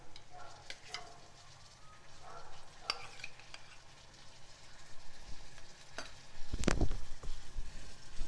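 Tomatoes with onions and ginger-garlic paste frying in a pan, a soft continuous sizzle broken by occasional stirring scrapes and a louder clatter of the spoon against the pan near the end, with no talking.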